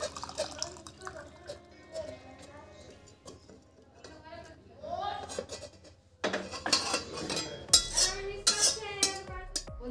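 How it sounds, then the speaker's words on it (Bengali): Rasgulla payesh, a milky sweet, is spooned from the cooking pot into a serving bowl. Metal utensils clink and scrape against the vessels, with wet, liquid sounds and a few louder knocks near the end, all under a voice talking. "আমি একটি পাত্রে রসগোল্লার পায়েসটি নামিয়ে নিচ্ছি"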